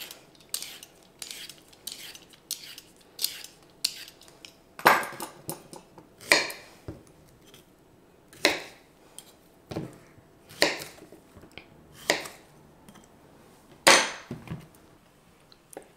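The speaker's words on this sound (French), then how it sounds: "On va s'attaquer à nos courgettes que je vais éplucher mais grossièrement." Courgettes being roughly peeled in a home kitchen, a run of sharp scraping and clicking strokes, some louder and spaced irregularly, close by with no talk.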